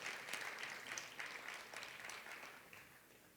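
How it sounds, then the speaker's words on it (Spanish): A church congregation applauds during a Spanish-language sermon, a steady wash of many hands clapping, fairly faint and distant, sustained without pause and with no talk over it. "¿Puede darle un fuerte aplauso al Señor?"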